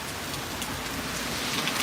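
Heavy rain from a severe storm pours steadily, a dense, continuous hiss of drops striking surfaces with no gaps and no voices.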